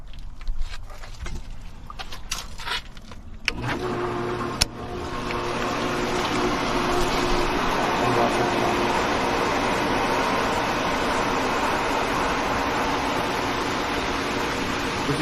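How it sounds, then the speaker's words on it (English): A swimming pool pump is switched on after its basket is cleaned and the lid tightened, followed by a few clicks and clunks before a loud, steady motor hum and rushing water drone settle in. "Turn on the pump."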